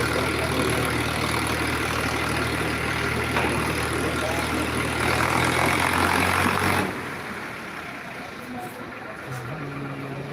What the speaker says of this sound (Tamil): ஜென்ரேட் வச்சுருக்காங்க மூணு ஜென்ரேட் வச்சுருக்காங்க